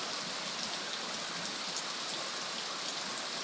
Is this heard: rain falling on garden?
yes